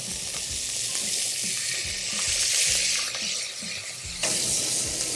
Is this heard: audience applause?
no